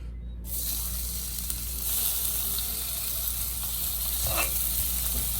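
Chopped onion dropped into hot oil in a pan for a chicken curry, a sudden steady sizzle that rises after a brief quiet start and continues evenly close by.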